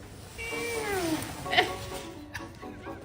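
A cat meows in short, rising-and-falling calls over quiet room noise, with a brief sharper squeak midway and softer movement sounds afterward.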